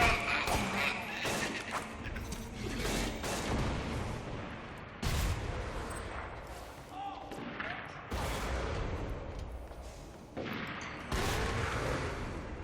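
Bandits fire guns during a firefight in the video game Borderlands 2, with repeated loud booming thuds and bursts of gunfire in irregular clusters over constant game noise.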